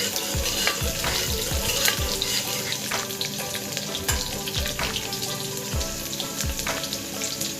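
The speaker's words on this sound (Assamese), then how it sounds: "এতিয়া মই ব্ৰাউন কালাৰ ভালকৈ ভাজি লোৱাৰ পিছতে দালি বুট আৰু আলুটো দি দিছোঁ" Onion, ginger, garlic, chili and bay leaf frying for khichdi in a cooker on a gas stove, a steady close sizzle with repeated sharp stirring clinks, no voices.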